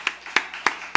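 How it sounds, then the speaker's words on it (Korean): Four sharp, evenly spaced claps ring out in a church during a Sunday worship service, fairly close and with no talk over them, as a congregation gives applause to God. "이 하나님께 영광의 박수 한번 올려줍시다."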